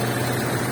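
Idling engine of a 2005 Daihatsu Taruna FL with fuel injection, hood open: a steady low rumble with a hum, close and continuous, with no talk.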